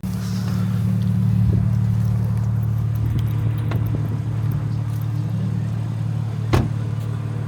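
A BMW M3 Competition idling nearby with a steady, deep, loud rumble and a few light clicks and knocks over it.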